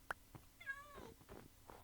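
In-game Minecraft cat lets out a short warbling meow amid a few soft clicks and footstep-like taps, fairly quiet and close, with no voices.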